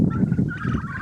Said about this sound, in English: You can see the turkeys in there.